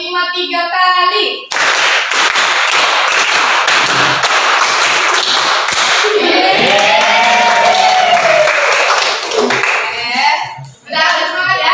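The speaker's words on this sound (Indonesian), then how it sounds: "tepuk 5 3 kali." A classroom of students claps out a rhythmic five-beat pattern three times over, loud and close, with children's voices heard before and after.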